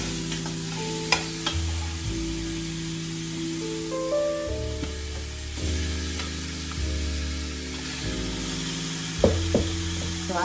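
Meat browning in a crowded pot for a New Orleans yakameen, a continuous sizzle with occasional stirring scrapes and knocks, alongside a low tonal background hum and no voices.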